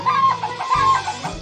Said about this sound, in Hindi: ये मुर्गी चिल्ला रही थी